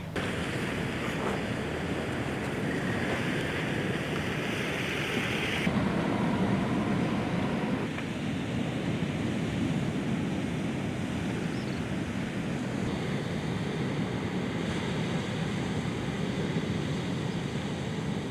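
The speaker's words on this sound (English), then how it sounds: "This is Rabuka Dry River, a subterranean river that comes to the surface only during period of heavy downpour. But today, it is in flow." Rushing water of Rabuka Dry River, a subterranean river surfacing after heavy rain, fills the scene with a steady, broad roar, mixed with some wind, continuous and fairly close throughout.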